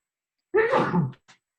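A single sharp sneeze sounds out of silence, loud and close, followed by a faint short breath or sniff.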